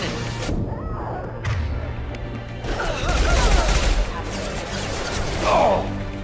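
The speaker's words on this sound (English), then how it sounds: "Heavy fire imminent." Heavy gunfire rages in the video game Mass Effect 2, a loud, dense fusillade of rapid shots with thuds and crashing impacts, continuous and close, mixed with game sounds.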